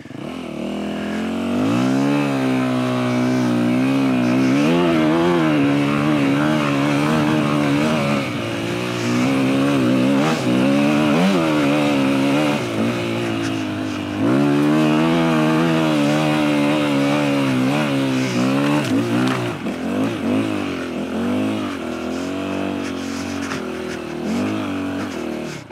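A Yamaha WR250F dirt bike engine revs and climbs in pitch repeatedly while climbing a small hill, rising and falling in surges as it labors, loud and close throughout.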